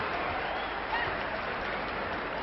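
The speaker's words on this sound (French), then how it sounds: "Les deux catcheurs sont applaudis." An audience in Saint-Denis applauds two wrestlers, Jacky Richard and Angelito, a short even burst of crowd clapping with a faint murmur underneath.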